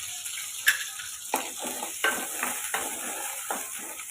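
Garlic, onion and chili sizzle and fry in a hot kadai while a spoon stirs them, giving a steady faint hiss broken by several scraping strokes, with no talking.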